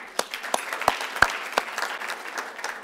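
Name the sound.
audience applause for the imams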